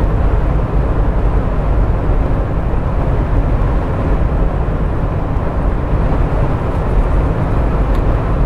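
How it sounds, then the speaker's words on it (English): Steady broadband road and wind roar inside a car cruising on the highway at 75 mph with windows up, hard top and stock tires, a constant low rumble that continues without a break. "Okay, I'm on the highway running 75 miles per hour. Got the cruise set. Windows up. This is with the stock tires."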